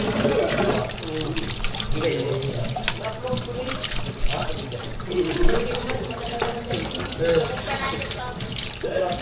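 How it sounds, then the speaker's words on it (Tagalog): Running water gushes in a strong, steady stream that splashes and sputters continuously, with people talking over it. "Chong, bakit ang lakas ng tubig yun dito?"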